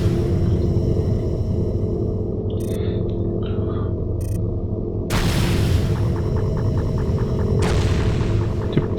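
Shivan cannons fire in the FreeSpace 2 space combat game, producing loud, deep booms and rumbling blasts with sharp bursts over a constant low roar, with no talking.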